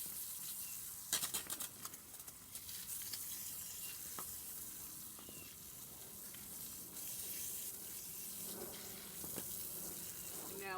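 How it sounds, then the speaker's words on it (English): Rocks are washed under a running tap. A faint, steady splash of water goes on the whole time, with small scattered knocks and rubbing from the rocks being handled, and no talking. "the first thing I need to do is wash them off"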